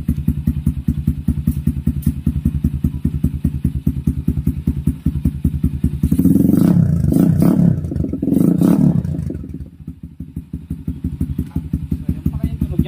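A motorcycle fitted with a Leo Vince aftermarket muffler runs up close and loud, idling with a steady pulsing beat, then roaring through a strong rev burst before settling back to the idle rhythm.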